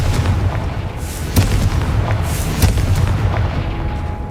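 A Confringo spell explosion in Hogwarts Legacy on PS5, loud booming blasts with a couple of sharp impacts over a dense rumbling roar that continues for several seconds.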